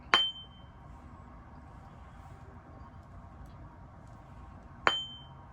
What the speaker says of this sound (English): we tapped it and we heard that ringing tone